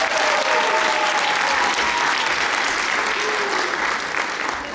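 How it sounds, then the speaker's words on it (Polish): A large concert audience at a children's singing gala claps continuously, a loud even roar of applause that holds steady and eases slightly near the end. "Brawa, bijemy!"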